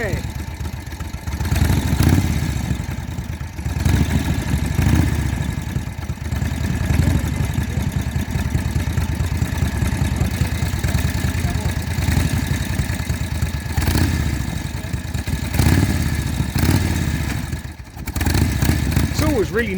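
An old BSA motorcycle with a sidecar idles with a steady, close rumble that keeps going throughout, while people talk over it now and then.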